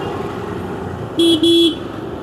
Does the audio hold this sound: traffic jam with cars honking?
yes